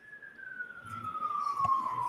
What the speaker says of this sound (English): let me just let the siren go on